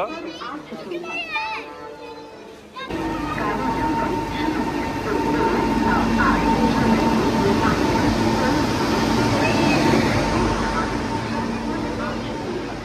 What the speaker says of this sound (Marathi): आणि आता फायनली आले ट्रेन